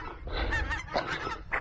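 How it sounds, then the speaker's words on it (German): A large flock of geese honks continuously, a dense overlapping chorus of calls from many birds, heard outdoors on a river island. "da hinten kommt auch noch ein Riesenschwarm Gänse"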